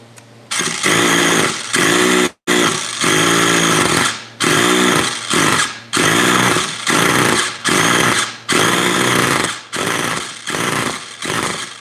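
A small RC model engine with its idle turned up revs in about ten loud, buzzing bursts, close by, dropping back briefly between each blip.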